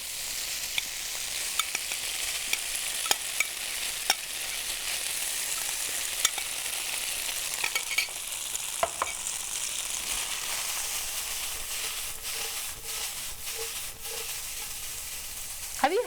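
Tofu fries in a reused, freshly oiled pan, giving a continuous close sizzle with scattered sharp pops and spatters that holds steady for the full sixteen seconds, with no talking.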